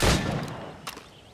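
A single loud gunshot in Assassin's Creed Rogue fired at practice targets, a sharp crack that decays quickly, followed by a fainter second report.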